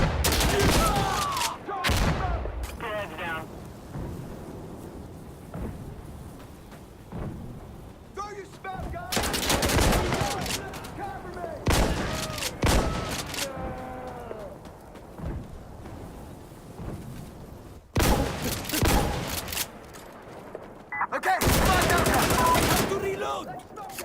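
Shotgun blasts fired with a laser sight in the tactical shooter game Insurgency: Sandstorm ring out in loud, sharp clusters separated by pauses, with quieter clicks and handling noises in between.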